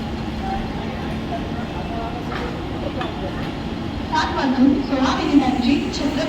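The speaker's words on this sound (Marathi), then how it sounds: "7:16 छत्रपती शिवाजी महाराज टर्मिनसला जाणारी ही लोकल थोड्याच वेळात प्लॅटफॉर्म क्रमांक 4 वर येत आहे" A Mumbai local train at Thane railway station at night gives a low, steady rumble that swells toward the end, with a public-address voice over it.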